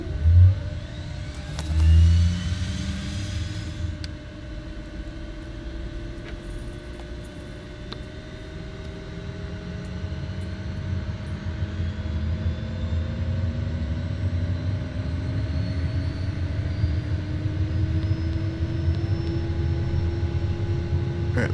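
A simulated aircraft engine in Microsoft Flight Simulator 2020 starts up with a couple of low thumps and clicks, then a rising whine builds into a steady, loud drone that keeps climbing in pitch.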